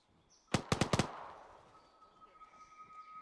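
Gunfire in Arma 3, a quick burst of four loud automatic shots followed by a fading echo tail, with faint background game ambience.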